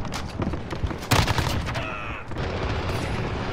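A long-range gunshot in a video game: a single sharp, loud crack partway through, surrounded by scattered lighter gunfire and ambient battle noise.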